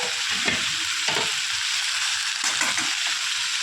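Carrots and beans sizzle loudly in a pan of hot oil for a spicy pasta, with steady frying hiss broken by repeated scraping stirs of a spoon, close and alone.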